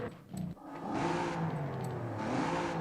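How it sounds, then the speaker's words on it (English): A twin-turbo Nissan 300ZX in Forza Horizon 5, fitted with an intake and no exhaust, its engine revving steadily with whirring turbo spool rising and holding for nearly three seconds. "You get a chance to hear that intake really spool up."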